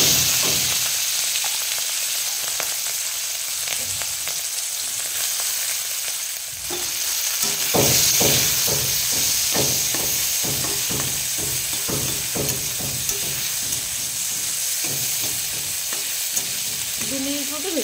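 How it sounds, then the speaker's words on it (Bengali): Fish sizzles in hot mustard oil in a wok, a steady, close frying hiss with a burst of louder crackling as the pieces go in, then regular scraping and clattering from stirring. "তেল গরম হয়ে গেছে, এবার মাছগুলো দিয়ে দেবো।"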